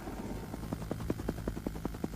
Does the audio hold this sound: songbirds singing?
no